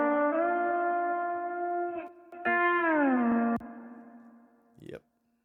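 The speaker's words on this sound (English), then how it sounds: "so slide guitar. So I did not play the slide guitar." Slide guitar loop from a Nashville player pack, with sustained notes that glide down in pitch, a brief break, then another sliding phrase that ends in a short noisy burst, heard alone without talking.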